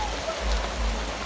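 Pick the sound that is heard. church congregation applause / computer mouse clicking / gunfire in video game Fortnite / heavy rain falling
heavy rain falling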